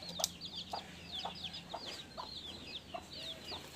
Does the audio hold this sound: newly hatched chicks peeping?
yes